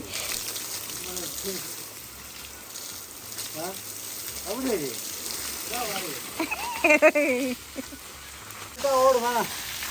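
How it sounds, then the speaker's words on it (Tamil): Water from a big pipe sprays onto a large Christmas tree, a steady hiss and patter of splashing water. A person talks over it. "இந்த பெரிய கிறிஸ்மஸ் மரத்துக்கு தண்ணி அடிக்கிறார்"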